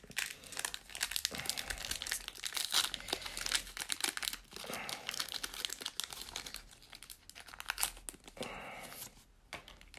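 Pokémon card booster packs are torn open and their foil wrappers crinkled, giving close, loud bursts of crackling and ripping with short pauses between handling sounds, no talking.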